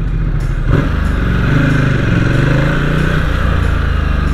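A Ducati XDiavel motorcycle's engine in sport mode on a city test ride, a loud steady drone with a quick rev change as the throttle closes and a gear shifts.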